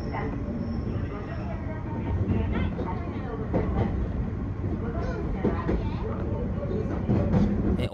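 A Nose Electric Railway train departs Kawanishi-Noseguchi Station with a steady low rumble and rhythmic clacking of wheels over rail joints, heard from inside, with a voice speaking over it.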